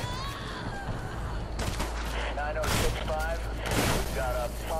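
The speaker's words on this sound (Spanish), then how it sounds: "Te están friendo a tiros" Bursts of gunfire from the shooter game Hatred, with rapid volleys swelling and fading amid police combat, while someone talks excitedly over the shots.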